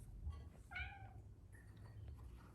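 A hungry house cat meows at breakfast feeding time: one clear, drawn-out meow, then a fainter shorter one, quiet and close against a low room hum.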